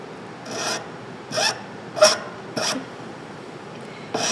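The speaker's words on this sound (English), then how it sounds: "using a steel file" A steel file tapers the end of a brooch pin stem in four short rasping strokes at a steady, unhurried pace, close up, with a fifth stroke just starting at the end.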